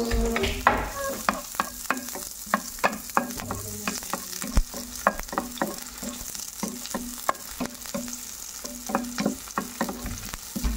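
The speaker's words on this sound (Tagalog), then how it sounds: "Then maglalagay tayo ng oil. Ahin natin yung sibuyas." Onions sautéing in hot oil in a frying pan (kawali) while chickpeas are being cooked, with steady close sizzling and frequent stirring clatter from a utensil against the pan.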